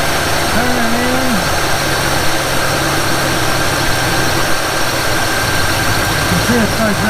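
A 1948 Willys Jeep engine idling roughly after its carburetor idle screw is turned in, a loud continuous uneven rumble heard up close with no pauses.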